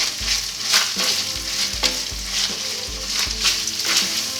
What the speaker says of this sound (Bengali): পেঁয়াজটাকে ভাজবো হালকা বাদামি রং ধরা পর্যন্ত